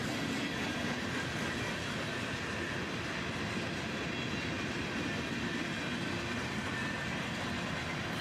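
A long northbound CSX manifest freight train led by two S44 ACH locomotives rumbles steadily past at close range, its wheels clattering on the rails in a continuous roar with no voices.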